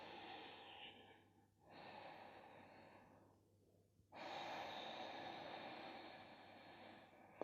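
Slow, audible Ujjayi breaths during a yoga session, long hissing breaths close to the mic, with a brief pause between them and a longer, louder breath following.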